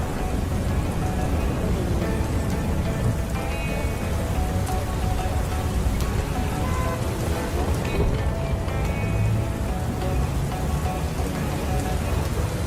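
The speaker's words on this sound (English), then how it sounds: "Storm's closer now." Heavy rain storm pouring steadily on surfaces for the whole stretch, a dense, loud, even hiss with low rumbling underneath and no talk.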